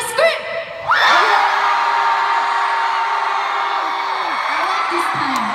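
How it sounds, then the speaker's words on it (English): A large crowd at a concert in Dallas screams loudly and continuously after a brief shout, with high sustained voices filling the arena and a long rising whoop in the middle. "Everybody scream!"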